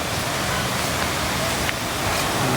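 A small artificial waterfall at a boardwalk in Naga, Cebu, gives a constant, rushing splash of falling water, close and fairly loud throughout.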